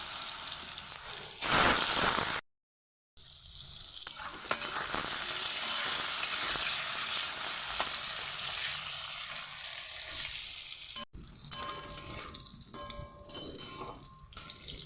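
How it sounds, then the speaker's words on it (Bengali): Pointed gourd (potol) pieces, coated in salt and turmeric, fry in the oil left from frying potatoes, giving a steady close sizzle with a brief cut and some clatter toward the end. "পটলগুলোকে আমি তেলের মধ্যে দিয়ে দেব যে তেলে আলু ভাজলাম সেই তেলে পটল ভেজে নেব"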